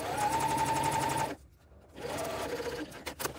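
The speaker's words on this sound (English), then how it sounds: "we'll go back over to the sewing machine and baste this side of the zipper also" A sewing machine bastes through zipper tape and lining fabric, its steady rapid stitching whir running close and loud, pausing briefly, then resuming with a few faster bursts.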